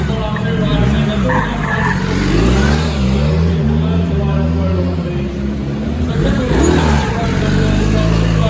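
BMW R1300GS motorcycles rev and accelerate over dirt mounds in an indoor offroad show, engines rising and falling continuously and loud, under an announcer talking over a PA.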